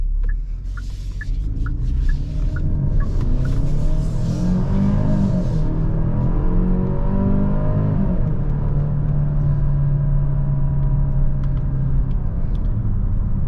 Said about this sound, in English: put this SUV in Sport Plus mode and do an acceleration right here